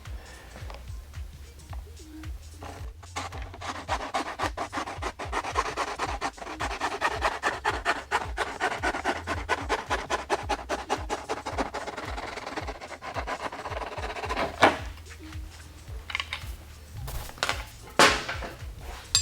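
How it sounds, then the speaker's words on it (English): A medium hand file rasps back and forth across a hacksaw cut in a motorcycle tail-light bracket, making steady, rhythmic close-up strokes for most of the stretch before a few slower scrapes at the end. "now I will just smooth the cut with a nice medium file"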